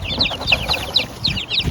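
Nine baby chicks peep in a brooder, repeated high chirps coming in quick pairs at a steady pace, close and fairly loud over a low rustling background.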